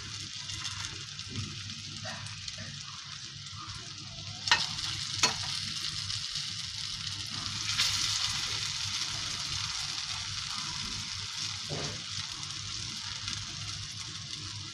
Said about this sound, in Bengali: দেখো ধোকা ভাজতে বসিয়ে দিয়েছি।